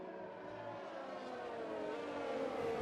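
Formula 1 race cars in the racing game F1 2020 at the Austrian Grand Prix, one Haas among them: a sustained high engine whine that climbs steadily in pitch as the cars accelerate, heard close and alone.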